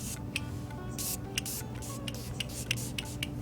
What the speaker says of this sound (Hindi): सबसे पहले जो है मैं अपना Qabool-E का सेटिंग स्प्रे लूँगी।